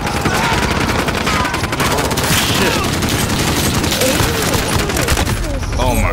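Heavy, continuous automatic gunfire from a Call of Duty Modern Warfare battle, dense overlapping rapid shots and booms close up for the whole stretch, with faint voices mixed underneath.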